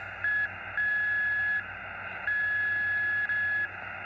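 Birdie interference on a Xiegu X6100 ham radio: a steady, faint electronic tone that switches on and off in four bursts of varying length, like a carrier from someone tuning up.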